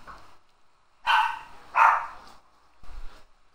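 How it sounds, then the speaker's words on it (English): A dog barks from somewhere in a home during gameplay, giving two loud, close barks about a second apart, then a softer third bark after a pause. "My dog is barking."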